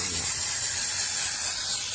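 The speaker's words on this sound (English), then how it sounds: "I'm just going to spray some hairspray" Old, partly clogged aerosol can of hairspray spraying in one steady, close hiss that fills the whole moment without a break.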